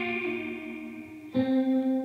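An electric guitar with effects plays a short shag rock lick, a sustained note that shifts pitch partway through, with a shimmering, chorus-like tone and no voices.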